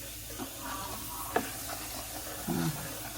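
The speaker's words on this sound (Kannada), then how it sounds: "ಅದಕ್ಕೆ ಕುದಿಯುವಾಗೆಲ್ಲ ಅದನ್ನ ಕೈ ಆಡಿಸ್ತಾ ಇರಬೇಕು" Mango curry bubbles in a pot while being stirred, giving a quiet, continuous simmer with faint scraping and a few soft knocks from the spoon.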